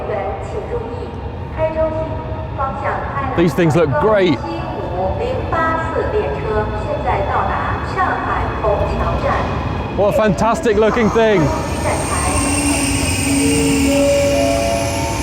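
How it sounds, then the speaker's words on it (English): A steady loud rushing roar of a Chinese high-speed bullet train pulling into a station, with a faint whine rising near the end, while a person talks over it. "Here comes the bullet train."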